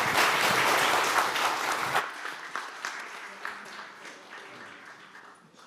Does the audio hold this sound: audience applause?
yes